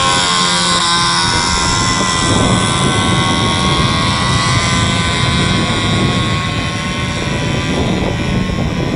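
Autonomous drones built entirely from bamboo fly with a loud, steady, continuous propeller whine and buzz that runs without a break throughout.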